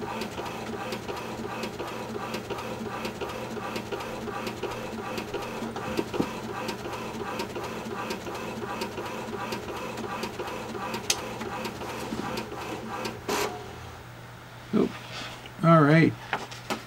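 A $29 HP inkjet printer prints a photo, running steadily with a mechanical hum and rhythmic carriage clicks, ending in a few clunks and a brief squeak.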